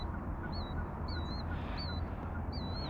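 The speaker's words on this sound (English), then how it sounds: "I can hear this bird making the noise." A bird calls in foggy landscape, giving a short, repeated call roughly every half second against a steady low rumble of background noise.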